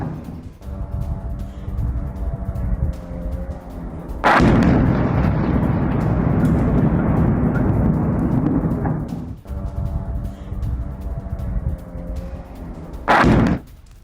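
Russian missile strike explosions in Kharkiv, two heavy blasts several seconds apart, each a sudden loud boom followed by a long rumbling roar, with a low steady hum between them and no voices.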